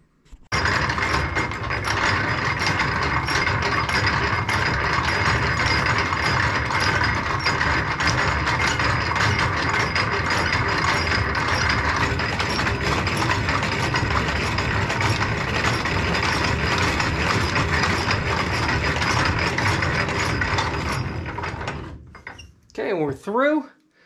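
A lathe drills through metal with progressively larger bits, from 3/8 up to 7/8 inch, a loud steady grinding whir running about twenty seconds before cutting off, with a brief squeal at the end.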